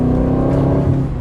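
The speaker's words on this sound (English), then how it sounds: "But that exhaust note is just so characterful, just so much more appealing, I think, than the Amalfis." An Aston Martin Vantage S exhaust note, a brief, loud, close engine drone holding a steady tone with no talk over it.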